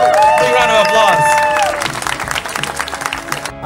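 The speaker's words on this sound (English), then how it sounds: "Big round of applause!" Crowd applause and cheering at a hot pepper eating contest, loud and close. A voice rings out at the start before the clapping takes over and continues steadily to the end.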